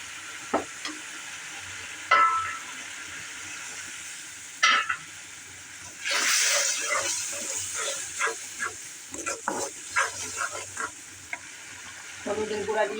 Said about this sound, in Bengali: এখন আমি হলুদের গুঁড়া দিয়ে দিব।